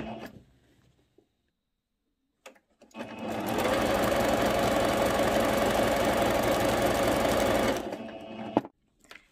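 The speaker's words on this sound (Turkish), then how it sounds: "Şöyle çektirerek ilk sıra lastiğimi dikiyorum." Sewing machine stitching elastic onto viscose fabric while making a skirt, a steady loud mechanical whir running for about five seconds, starting and stopping abruptly against a quiet room.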